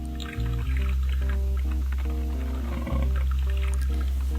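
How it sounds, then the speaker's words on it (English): A coffee maker brewing in the game Cube Escape gives off a loud, steady, low droning hum with shifting gurgles and a pouring, trickling texture, the tone dropping and changing pitch partway through. "I wish my coffee maker worked that fast."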